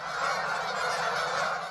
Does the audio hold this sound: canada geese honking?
yes